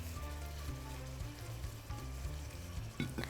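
Chicken pieces frying quietly in a pan, a low steady sizzle with faint background hum and a few sharper clatters near the end.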